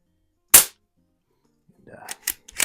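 A single sharp shot from a pump-action gun fitted with a red dot sight cracks loudly and stands alone, followed after a pause by quieter handling clatter and a few short knocks.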